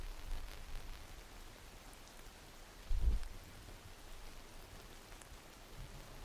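A steady hiss of rain used as a background effect on a live broadcast, with soft static-like patter on a surface, faint and even, plus one brief low thump midway.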